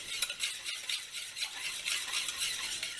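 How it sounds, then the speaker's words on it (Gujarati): A whisk beats besan batter for Kathiyawadi dahi vadi in a bowl, giving a quick, rhythmic, scratchy swishing with light taps against the sides. "આપણે વિસ્કર વડે આ વિસ્ક કરી નાખશું"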